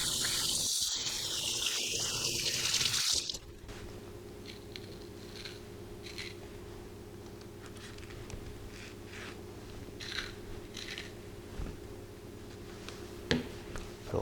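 Tap water runs steadily from a kitchen faucet as hands are washed with soap, a soft continuous splash after a brief louder clatter at the start.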